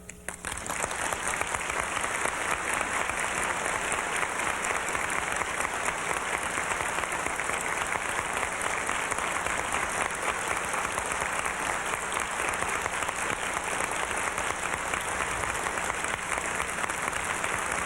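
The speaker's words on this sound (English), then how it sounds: "we'll give our farewell applause to Andre." A large convention audience at a 1989 science fiction Worldcon gives sustained farewell applause, a dense, steady wash of many hands clapping that carries on loudly and evenly throughout with no talking over it.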